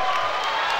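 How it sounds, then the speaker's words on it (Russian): An audience applauds at a circus festival on Red Square in Moscow, giving a brief, steady wash of clapping and crowd noise with a few louder bursts. "¡Aplausos!"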